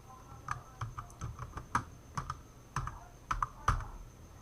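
Typing on a computer keyboard comes through as irregular clusters of crisp key clicks, close and moderately loud, over a quiet steady hum with no talking.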